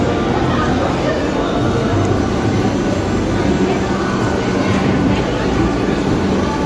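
A long train stands at a station before a Somnath journey to Veraval, giving off a steady low rumbling drone under murmuring background voices.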